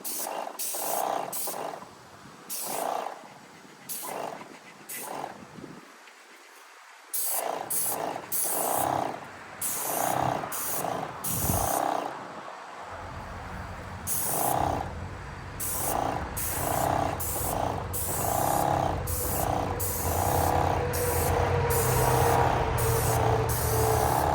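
A new paint sprayer gives off a steady close hiss in rhythmic pulses, with a low engine-like drone joining underneath partway through and no talk.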